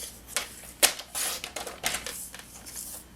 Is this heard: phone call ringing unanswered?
no